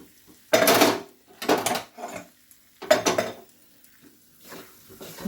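A spoon stirs red velvet halwa with cardamom powder in a pan, giving several loud scraping and clinking bursts with short quiet gaps between them.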